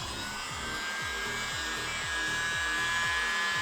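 Close, steady high-pitched whine from a small electric mini blower with an attachment, used to clear the centre of a painted flower. A rhythmic low pulsing runs underneath, with no talking.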